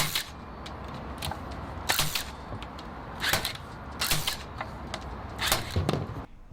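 A DeWalt cable stapler fires staples in a series of about six sharp, loud mechanical snaps spaced unevenly over several seconds, heard close up over a low background hum.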